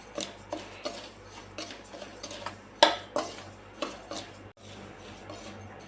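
Wheat semolina dry-roasts in a pan while a spoon stirs it, giving quiet intermittent clinks and scrapes of metal against the pan, with one sharper knock partway through.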